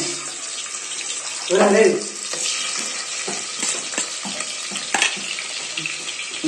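Onions fry in oil in a pan with a busy crackling sizzle, along with stirring clatter and watery splashing sounds, close and fairly loud, with a few brief bumps.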